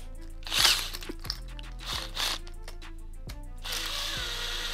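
Plastic-bristle brush scrubbing dried tubeless sealant off a bicycle tyre, a rotary tool whirring steadily with repeated rough scraping bursts against the rubber, close and fairly loud.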